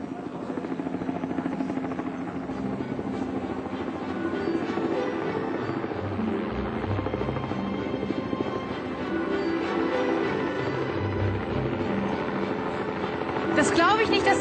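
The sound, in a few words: helicopter arriving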